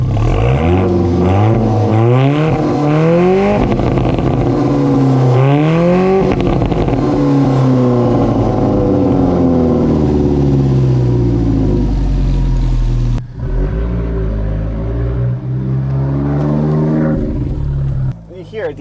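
A 2019 Alfa Romeo 4C four-cylinder with MagnaFlow exhaust fires up and revs, loud, rising and falling engine tones close by, settling into a throaty idle with a brief drop partway, while someone talks over it.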